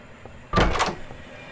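A door opens in the DOORS video game with a single short, fairly loud wooden thunk and creak, alone against quiet background.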